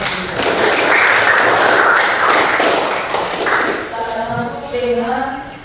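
Audience applause for three colleagues at a Christian religious education gathering, a dense wash of clapping from a crowd that swells, holds for a few seconds and fades as a voice begins speaking.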